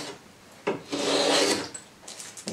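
A hand plane shaves along wood in a long rasping stroke, preceded and followed by short scraping passes, close up with no talking.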